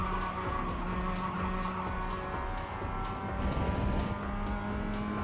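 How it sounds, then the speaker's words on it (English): Race car tyres skidding under drift braking in an iRacing GT3 online race at Spa, a steady loud engine drone with faint repeated squeal bursts layered over it throughout. "there's the drift braking"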